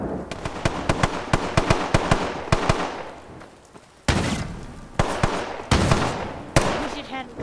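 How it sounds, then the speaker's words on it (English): Gun firing in the Fallout video game, loud close shots in rapid irregular bursts at first, then a few heavier booming blasts that ring out and decay between shots. "I don't think this is really a type of weapon you're supposed to be firing like this."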